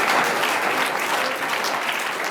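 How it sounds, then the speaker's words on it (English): Applause at a regular council and authority meeting, a loud, continuous spatter of many hands clapping with no voices over it, steady from start to finish. "I'm going to clap on that one."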